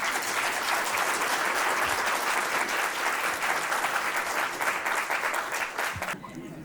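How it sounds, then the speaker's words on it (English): Audience applause at a Carnatic music recital: dense, steady clapping from a crowd that holds at full strength for about six seconds, then drops off abruptly. "Give a round of applause one more time."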